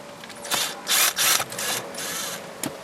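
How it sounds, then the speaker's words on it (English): A drill gun with a large extension drives a screw during a car radio install in a 2005-2008 Toyota Matrix, giving several short, loud whirring bursts with pauses between them. "I went to get my drill gun with the large extension."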